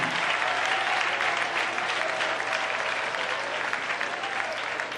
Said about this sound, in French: Est-ce qu'on veut applaudir mon Dieu ça?